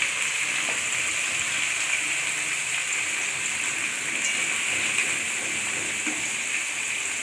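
Pointed gourd and potato pieces frying in a pan with onion, giving a steady, even sizzle that holds without pause, close and moderately loud.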